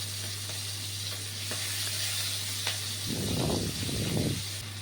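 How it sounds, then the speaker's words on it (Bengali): Shrimp fry in hot oil with a steady, close hiss, then two surging sizzling bursts toward the end as more pieces hit the pan. "ওই তেলের মধ্যে চিংড়িগুলো একটার পর একটা দিয়ে"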